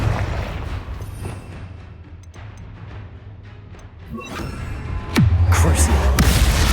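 Confringo fire spell in the video game Hogwarts Legacy, a sharp blast near the end that rolls into a deep, sustained rumble over a low, droning battle backdrop, with a voice briefly present.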